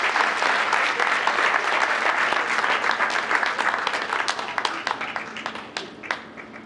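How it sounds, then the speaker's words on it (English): A council meeting audience gives a round of applause for group three, dense steady clapping from many hands that thins toward the end. "a big round of applause for group three"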